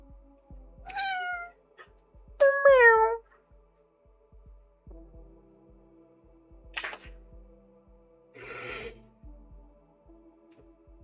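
Two close, clear meows from Macaroni the cat in quick succession, followed by a couple of softer rustling or breathy sounds against a quiet indoor background.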